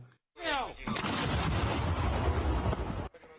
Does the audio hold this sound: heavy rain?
no